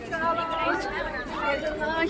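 A crowd of visitors at Qutub Minar in Delhi, a close, busy babble of many overlapping voices chattering throughout.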